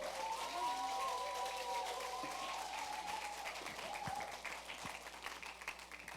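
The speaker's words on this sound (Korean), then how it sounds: "우리 박수 해주시겠습니다" Church congregation applauding in a worship hall, a steady sustained clapping that starts full and thins slightly toward the end, with a brief tonal voice or music line early on beneath it.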